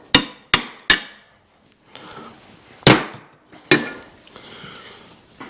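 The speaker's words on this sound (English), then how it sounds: "I'll have to knock that off with a hammer" A hammer knocks a part off the suspension of a Healey chassis fitted with Ford suspension, sharp metallic strikes: three quick blows, then a lighter tap, then two more heavy hits, each ringing briefly, with no voices.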